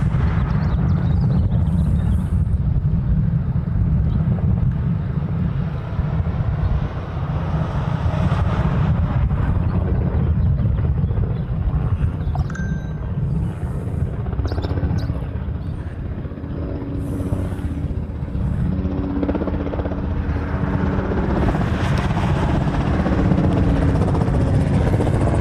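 UPS Boeing 747 landing on runway 8 left, a loud continuous low engine roar and rumble lasting throughout, mixed with wind buffeting on the microphone.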